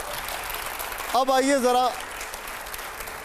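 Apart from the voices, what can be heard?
studio audience applause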